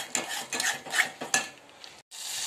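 Turmeric, coriander powder and garam masala being stirred into chilli masala in a pan for Maharashtrian masvadi curry, with repeated close scraping strokes of a spoon over a soft sizzle, no talking.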